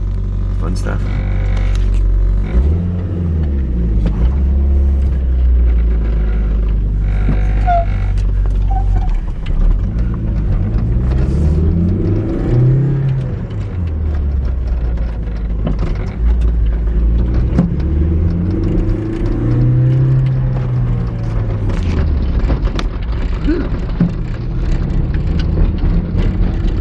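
A supercharged, intercooled 1988 Toyota MR-2 with a five-speed manual drives around the block, its engine rumbling and rising in pitch through several acceleration runs and gear shifts. Speech is present throughout.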